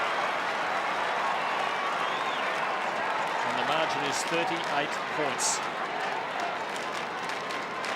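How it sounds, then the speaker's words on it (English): St Kilda supporters at an Australian football match against Collingwood raise a broad, distant crowd roar with scattered applause, steady throughout while a commentator talks over it. "Well, the Saint fans are the only ones cheering that."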